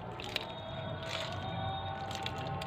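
Fertilizer solution poured onto the leaves and branches of a lemon plant, a steady wet splashing and dripping that runs continuously at moderate level, with a few brighter splatters.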